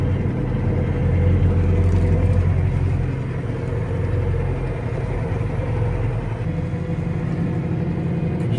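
A tractor working a power harrow across a soft field gives a continuous heavy engine drone with a deep rumble, loud and close, swelling slightly near the start and then settling into an even, steady note.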